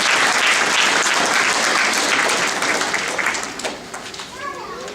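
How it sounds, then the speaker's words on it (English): Audience applause at a hospitality management graduation ceremony, a dense wash of clapping that stays loud before thinning out toward the end, with a few voices and children's chatter showing through. "So let's give them a round of applause as well."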